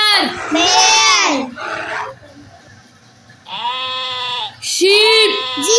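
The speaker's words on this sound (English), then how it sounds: "Sheep." Several loud sheep bleats in a row, wavering and close, with short gaps between calls.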